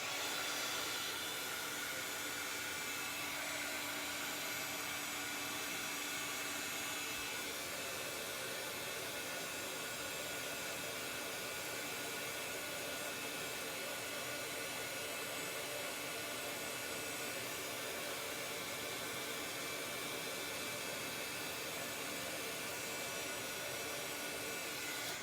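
A heat tool blows hot air onto craft material squirted on leaves, a steady broadband whoosh running throughout, close and continuous, with no talking.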